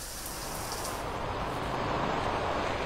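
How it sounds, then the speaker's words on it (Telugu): Torrential rain pours over Hyderabad city, a steady dense hiss of heavy downpour that stays loud and even throughout, with faint traffic beneath and no talking. "సిటీ వ్యాప్తంగా కుండపోత వర్షం కురుస్తుంది"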